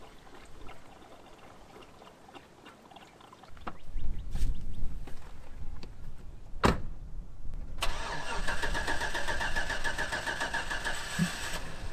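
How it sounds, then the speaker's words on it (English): A used truck's engine cranks and fires up after a fuel pump replacement, then settles into a steady idle that continues to the end, with no talking. "Now we'll put some gas in the fuel tank and make sure she fires up"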